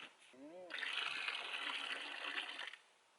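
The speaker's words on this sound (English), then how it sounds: "try and pour the water off gently" Water pours steadily off settled wild clay in a bucket, a close, even gushing splash lasting about two seconds before it tapers off. A brief tonal sound comes just before the pour.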